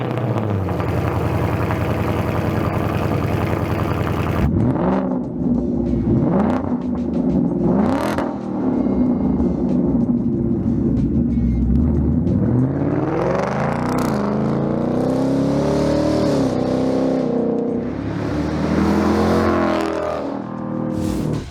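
A Ford S650 Mustang GT fitted with a Pypes catback exhaust revs repeatedly, loud and close, its engine note climbing and falling in several sustained pulls with no talking.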